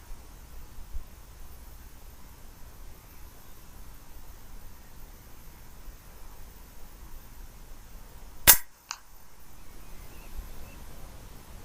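An FX Impact M3 air rifle fires one sharp, close crack outdoors on a golf course, followed moments later by a faint pellet impact at roughly 66 metres. A quiet, steady background surrounds the shot.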